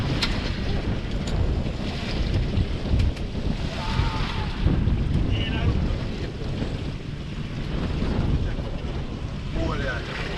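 Deep sea fishing boat rocks in neutral on big swells during rain, with heavy wind buffeting the microphone, sloshing waves and splashes, and brief faint voices under the roar.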